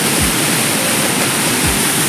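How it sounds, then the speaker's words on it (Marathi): Sawatkada waterfall near Murud sends water rushing down in a loud, dense, continuous roar, steady and close, with no break in the flow. "तर बघा मित्रांनो कसं जबरदस्त पाणी वाहतंय वरून खाली."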